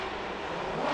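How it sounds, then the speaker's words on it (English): A drift car's engine is on the throttle during Formula Drift qualifying at Long Beach, giving a continuous, fairly loud exhaust roar that builds slightly over one second. "the smoke signal letting you know that he's on the throttle, the exhaust note"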